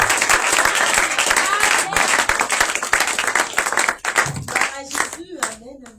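A church congregation at a Shavuot prophetic conference claps and applauds for the Holy Spirit, a dense steady roar of hands that fades after a few seconds as a voice speaks over the dying applause.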